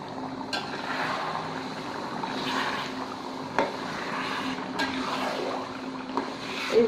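Whole five-spice seeds hit boiling oil for a sweet-sour tamarind pickle, giving a steady close hiss broken by a few sharp crackles and pops.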